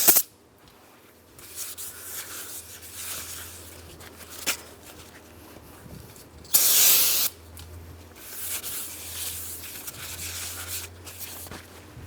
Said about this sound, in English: We'll use some parts cleaner and a clean rag.